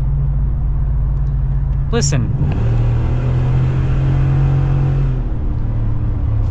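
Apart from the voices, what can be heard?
2022 Ford F-150 RMT Off-Road truck exhaust while driving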